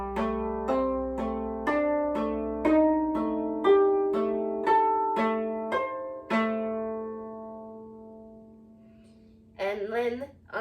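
Plucked koto notes play the first part of Hana Ikada, a steady run of about a dozen ringing plucks that decay into silence before a brief voice at the end.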